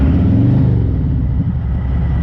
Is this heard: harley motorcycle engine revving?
yes